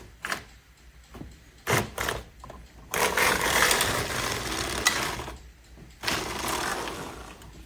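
A knitting machine carriage slides across the bed in bursts of clicking, ratcheting mechanical clatter, separated by short pauses and then a longer continuous pass, close and fairly quiet.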